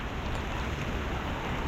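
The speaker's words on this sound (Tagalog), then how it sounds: "So na abutan tayo ng ulan." Rain pouring onto the leaves of trees used as shelter near the sea, a steady dense hiss that stays loud and even throughout, with no voices.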